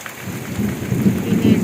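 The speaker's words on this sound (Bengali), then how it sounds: "টিনের চালে বৃষ্টিতে ভেজার শব্দটাই ভালো লাগে" Heavy rain drums close and dense on a tin roof during a thunderstorm, a steady wash with low thunder swelling underneath, no voices.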